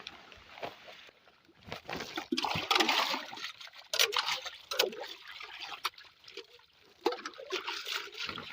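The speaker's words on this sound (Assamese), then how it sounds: "এই ব্ৰহ্মপুত্ৰটোৰ পৰাই মই পানীখিনি লৈ যাম।" Water of the Brahmaputra river in Assam splashing and trickling close by, with uneven bursts of sloshing and dribbling that rise and fall over several seconds, and no talk.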